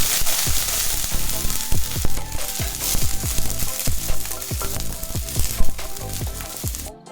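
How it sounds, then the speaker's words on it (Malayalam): Chopped garlic frying in ghee for Kerala onion rice, a loud dense crackle with rapid pops and repeated spatula scrapes close by, cutting off abruptly at the end; no voices. "ഇനി നമുക്കിതിലേക്ക് കട്ട് ചെയ്ത് വെച്ച വെളുത്തുള്ളി ചേർത്ത് കൊടുക്കാം"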